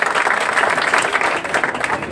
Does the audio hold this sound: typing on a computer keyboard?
no